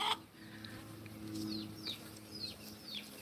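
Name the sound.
chickens clucking in a garden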